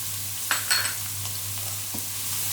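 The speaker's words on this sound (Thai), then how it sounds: "แล้วเราก็ผัดน้ำพริกเผาค่ะ กับหอยเนี่ยค่ะ ให้เข้ากัน" Roasted chili paste stir-frying with boiled clams in a pan, a steady close sizzle with a couple of scraping stirs and a light clink, no one speaking.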